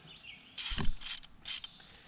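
Metal tool handling with a 1-inch socket and ratchet used on a Cat 248 skid steer, a few brief clanking and grinding mechanical bursts close by, over a thin high whine.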